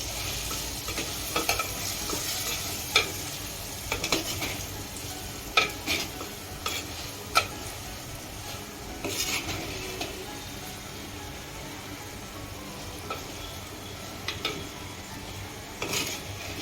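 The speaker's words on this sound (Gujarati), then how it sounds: "હવે જુઓ મસાલો પણ સીજી ગયો છે એને હવે હલાવી કરવાનો" Cooked masala stirred in a pan with a spoon, steady sizzling frying underneath and intermittent scraping, tapping strokes against the metal, close up and with no voices.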